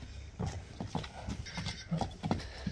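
A blue-grey five-year-old horse brought from Russia clops its hooves on the ground close by, in an uneven run of sharp strikes with no talking.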